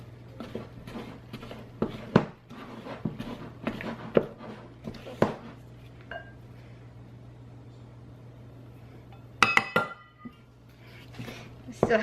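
Flour is stirred into homemade bread dough in a bowl, giving irregular clinks and scraping knocks of a utensil against the bowl, close by, with a steady low hum beneath and speech in places.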